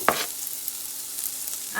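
Red onions and pepper frying in a chow mein pot, a low steady sizzle framed by a stir of the spoon at the start and another scrape at the end, with no talking.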